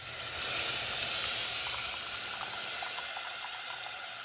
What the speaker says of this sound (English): Let's go ahead and add our milk, Ryan.